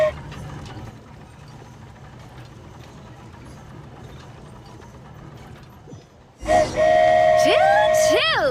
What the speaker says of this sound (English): Choo-choo! Aerial Express moving out.